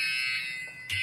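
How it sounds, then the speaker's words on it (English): An alarm sounds during an ice cream spill, a loud steady high-pitched electronic tone that dips briefly before swelling again. "Setting alarms off."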